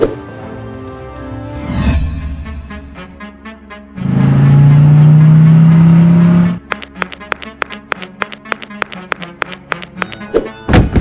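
A rented car drives along, its engine drone swelling and rising in pitch for a few seconds between stretches of background music and rhythmic clicking.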